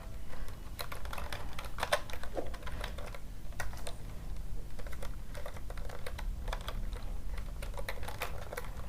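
Rapid, close-up keystrokes clatter on a computer keyboard as an address is typed into Tally ERP9 accounting software, an uneven run of light clicks with no talking.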